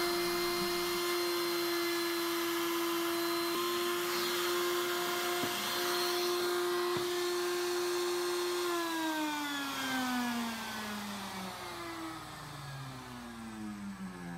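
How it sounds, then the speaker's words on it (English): A router cuts along the edge of a walnut cutting board with a loud, steady high whine that holds and then winds down in pitch as the bit spins to a stop. "this can also be done with a handheld router"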